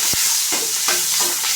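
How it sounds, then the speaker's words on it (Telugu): Ridge gourd fry being stirred in a pan with green chillies, salt and turmeric, a few short scraping strokes over a soft steady sizzle, close and moderately loud with no voices. "మిరపకాయలు, అలాగే సాల్ట్ కొంచెం, పసుపు కొంచెం. ఇప్పుడు కలుపుకోవాలండి."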